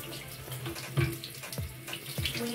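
Tap water runs steadily into a sink while conditioner is rinsed from a Rainbow High doll's hair, with a continuous splashing rush and a few louder surges.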